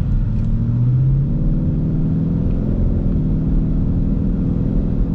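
Roush Stage 3 Mustang in 4th gear with a fault causing a jerk, a low engine drone rising briefly early on then settling into a steady rumble from inside the car.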